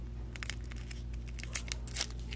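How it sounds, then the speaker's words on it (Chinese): A snack package being torn open, with crinkly rips and bursts of plastic rustle over a steady low hum, the loudest tears arriving near the end. "一样把它撕开"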